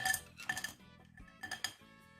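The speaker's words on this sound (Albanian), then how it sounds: "Në enë do të hedhim akullin." Ice cubes tipped into a bowl while dyeing eggs, giving two quick bursts of clattering clinks against the container with a quiet pause between, and no talk.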